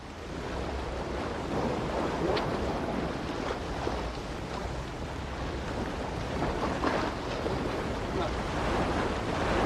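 Surf rolls in steadily on a windy beach while a line is cast for surfcasting, the broad wash of breaking waves mixed with gusting wind noise across the microphone, continuous and fairly close with no voices.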